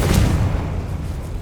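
A Confringo blasting spell explodes in the video game Hogwarts Legacy, giving a loud, low booming burst that rumbles on and slowly fades across the clip with no voices.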